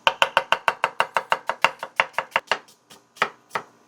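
A knife slices an onion on a cutting board in a quick, even run of about twenty sharp taps that slows and thins out toward the end, close and alone with no voices.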